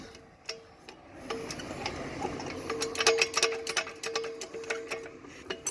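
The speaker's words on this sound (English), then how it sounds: "We're going to jack it up now, after Jack's made a load of noise, just because we need to get into the middle" A car jack is raised under a Nissan 350Z, making a steady run of quick metallic ticks and clicks that grows louder and denser as it goes, close by and without talking.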